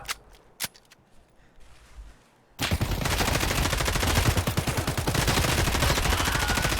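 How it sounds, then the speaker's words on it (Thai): In Escape from Tarkov, a few scattered shots over quiet background give way to rapid automatic gunfire that continues loudly and steadily to the end, with game-like punchy bursts. "ฟังเสียงปืนกู คำราม"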